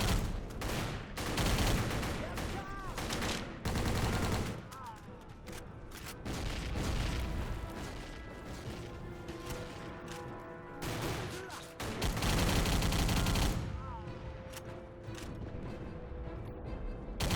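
Rapid machine gun fire rattles in a video game battle against waves of enemies, with dense, loud bursts and booms repeating throughout and only brief pauses between volleys.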